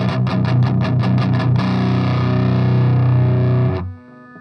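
An electric guitar plays through an amp with the effects loop switched off, a distorted chugging riff of quick picked notes followed by a sustained ringing chord that is cut short, loud and close.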